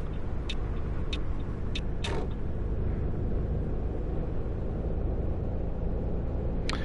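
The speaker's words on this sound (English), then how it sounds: "Just going for a chill bus ride today" Coach engine drone in Fernbus Coach Simulator on a Copenhagen to Germany run, a steady low rumble with road noise and a few brief hissing air-brake bursts, alone with no talk.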